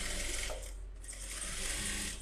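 A sewing machine stitches along the edge of lining material with a continuous, close mechanical whir. The sound briefly softens in the middle, then resumes, and no one speaks.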